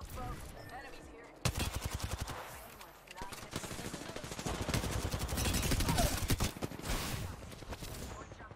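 Rapid automatic gunfire in the shooter game Apex Legends, long dense bursts of loud, close shots with brief gaps between, while players talk over the shooting.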